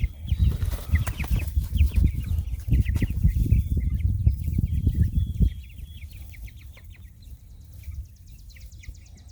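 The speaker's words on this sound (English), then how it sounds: "we finally got all the chickens moved up here" Four-week-old broiler chickens cluck and squawk over a busy, loud low rumble that drops away halfway through, leaving quieter clucking and chatter from the flock.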